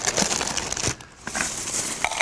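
Breakfast cereal flakes tumble into a blender, a close, crinkly, rustling crunch that pauses briefly midway and then resumes for about two seconds.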